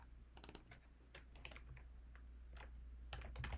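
Rapid clicking keystrokes on a computer keyboard, irregular bursts of typing at close range over a low steady room hum, no voices.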